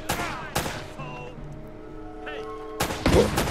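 Uncharted: Drake's Fortune video game gunfire, a few loud sharp shots near the start and end with a quieter, tonal stretch of game sound between them.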